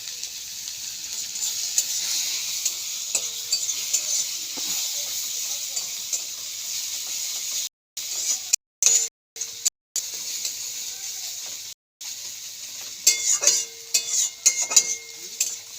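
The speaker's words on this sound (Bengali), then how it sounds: "এরপরে দিয়ে দিচ্ছি কুচনো গাজর" Grated carrot frying in a pan for a semolina halwa, a light continuous sizzle with scattered stirring scrapes, briefly interrupted by short gaps.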